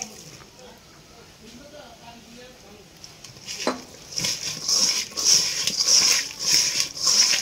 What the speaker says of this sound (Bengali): এখন আমি খুবই ভালোভাবে মাখিয়ে নিচ্ছি।